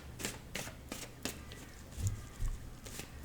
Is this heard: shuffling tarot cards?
yes